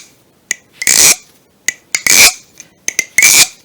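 A balisong butterfly knife flipped by hand: sharp metallic clicks of the handles followed by bright scraping swishes, repeating in three quick cycles, close and loud with no talking.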